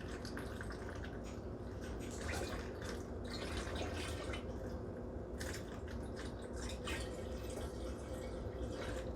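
Berry juice poured into a jug for homemade berry wine, a continuous close splashing and gurgling stream, quiet and unbroken, with no talking.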